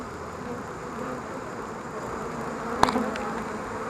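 Honey bees buzzing steadily around an open hive during an inspection, a soft continuous drone with one brief sharp click near the end.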